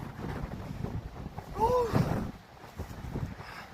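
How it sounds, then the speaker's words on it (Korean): Strong wind gusts buffet the microphone at a rocky seaside coastal road at Sebang sunset point on Jindo, a steady broadband roar swelling louder midway, with faint surf and brief voices underneath. "바람이 심하게 불어죠"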